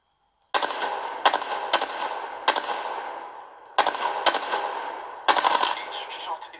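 Rapid automatic weapon fire in the shooter game Apex Legends, loud bursts separated by brief pauses, with ringing metallic tails and no talk.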